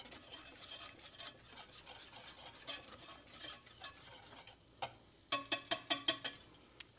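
Spoon scraping and stirring flour cooking in a pan for béchamel, a soft continuous rasp with quiet sizzling, ending in a series of sharper rhythmic scrapes close by.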